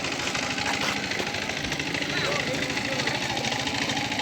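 A trawler boat engine idles at a river ghat in Bangladesh, where tourist boats leave, with a steady, loud, rhythmic chugging throughout and voices talking over it.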